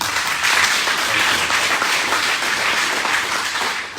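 Audience applause at a political address, a dense, continuous wash of many hands clapping that stays loud and steady throughout before tapering slightly at the end.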